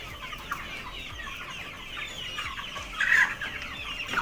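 Chickens cluck steadily in a school classroom turned into a chicken farm, a dense flock heard close with overlapping calls and a louder burst of clucking near the end.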